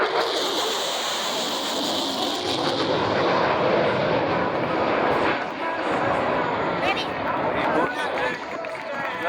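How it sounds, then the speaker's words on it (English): An F-16 fighter jet flying past at the Stuart Air Show, a loud sustained roar of jet engine noise that swells and holds with broadband rumble across the whole stretch, under a busy outdoor crowd setting. "F-16."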